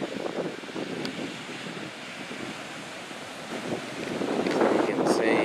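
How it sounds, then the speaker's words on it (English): Ocean surf washing up a beach at high tide in Seaside Park, a steady broadband roar of breaking waves with some wind buffeting the microphone, swelling louder toward the end. "So you can see how far the waves are coming up to the beach."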